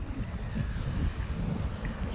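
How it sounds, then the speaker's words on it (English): Wind blows at the Irish Sea shore during fishing, a continuous low rumble and roar of gusts buffeting the microphone, steady and fairly loud with no clear voices. "it's quite windy"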